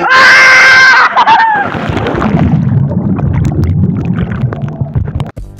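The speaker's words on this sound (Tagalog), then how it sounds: "Sa part na to, grabe naman ako sumigaw." A loud, shrill scream opens the scene at a family 60th birthday celebration, lasting about a second before giving way to a noisy, bustling background of chatter and movement.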